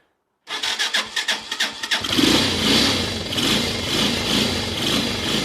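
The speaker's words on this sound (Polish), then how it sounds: "Będziemy na rozrusznik, bo jednak motocykl ma rozrusznik elektryczny" A Romet K 125 motorcycle engine cranking on its electric starter, a quick series of rhythmic starter pulses before it catches and settles into a loud, steady idle close by.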